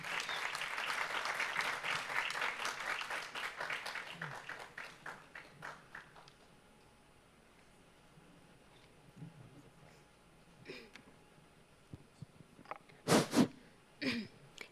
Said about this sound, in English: Round of applause for them, ladies and gentlemen.